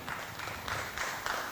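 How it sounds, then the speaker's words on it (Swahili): Audience at a Sacco annual general meeting clapping as the chairman arrives, a short burst of dense, steady applause from many hands filling the room. "Tumpigie makofi anapokuja tafadhali."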